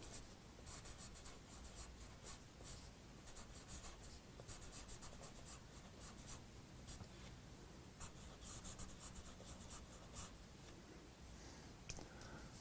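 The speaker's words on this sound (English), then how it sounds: "So I slant my paper to write nice cursive." A pencil writing cursive on slanted paper, producing a soft continuous scratchy rubbing with quick rhythmic strokes and brief lifts, faint and close.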